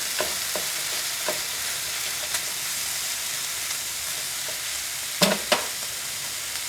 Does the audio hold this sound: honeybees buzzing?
no